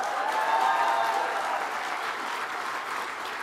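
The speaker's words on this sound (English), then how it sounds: "Give your faculty and staff a round of applause." Commencement audience at the Olin College of Engineering applauding, a dense, loud wash of many hands clapping that holds steady and then slowly eases off, with no talk over it.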